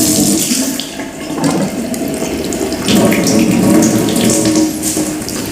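A test container rinsed under a running tap: steady, loud, close splashing water with a continuous broadband gush that swells and eases slightly, no voices.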